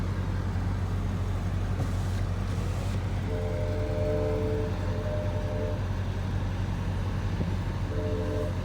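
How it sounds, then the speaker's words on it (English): A train pulls out of East Gwillimbury station, a steady loud rumble of rolling stock and engine with a long sounding of the horn partway through and again near the end. "Right now, the train's departing East Granbury."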